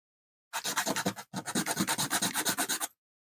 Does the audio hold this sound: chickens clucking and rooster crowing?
no